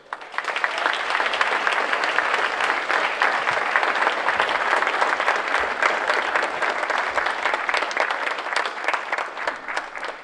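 A seated audience breaks into sustained, dense applause welcoming Dr. Sebi, a continuous wash of many hands clapping at even loudness for about ten seconds with no speech over it.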